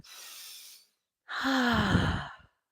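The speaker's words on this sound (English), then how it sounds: "Take a nice deep breath" A person takes a deep breath: a soft, airy inhale, a brief pause, then a longer, louder sighing exhale that trails off.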